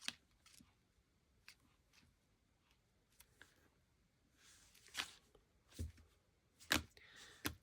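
Scissors cutting paper for a collage, a few soft scattered snips and rustles, close and fairly quiet, with brief louder cuts toward the end.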